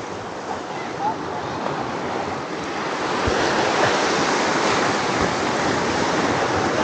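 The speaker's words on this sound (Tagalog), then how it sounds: "Ang lalaki ng alon." Big ocean waves break on the shore at a coastal camping and fishing spot, a loud continuous roar of surf with wind buffeting the microphone that swells louder midway.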